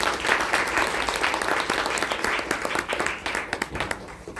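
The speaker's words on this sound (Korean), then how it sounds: "다시 한번 큰 박수 보내드리도록 하겠습니다." An audience at an Amway office meeting in Bundang applauds steadily throughout, a dense, full round of clapping that stays loud and even from start to finish.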